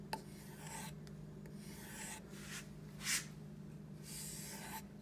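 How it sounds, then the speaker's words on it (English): A sharpened blade edge is drawn back and forth across a leather strop, soft rasping strokes repeating in an uneven rhythm, close and faint over a low steady hum. "And this is called stropping."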